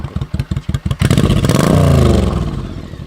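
A liquid-cooled, shaft-drive 1984 Honda VT700 V-twin motorcycle starts with a few loud, rhythmic idle pulses, then revs up hard into a sustained throaty roar before easing back, close by and with no voices.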